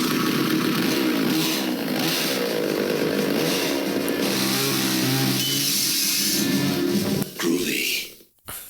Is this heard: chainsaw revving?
yes